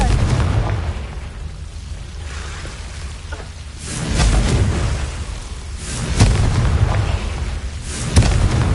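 Confringo spell explosions in Hogwarts Legacy, several deep booming bursts spaced a couple of seconds apart over a loud rumbling game background, with no talking.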